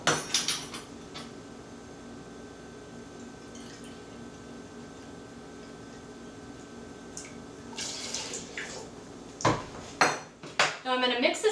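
Homemade BBQ sauce ingredients with white vinegar in a pot, faint hum at first, then a cluster of clanking utensil strikes against the metal near the end, close, with brief talk.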